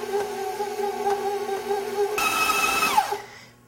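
An electric mixer whirs through gluten-free whoopie pie batter, a steady mechanical hum that steps up louder and brighter before winding down and cutting off.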